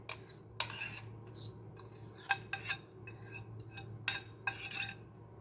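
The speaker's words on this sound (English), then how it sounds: "I'm just going to whisk it in." Mashed bananas whisked into melted butter in a pan on the stove for banana bread, giving quiet irregular metallic scrapes and clinks of the whisk against the pan over a low background hum.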